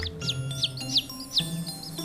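Newly hatched chicks chirp in a quick series of high, thin peeps, about six close, soft calls in a regular rhythm.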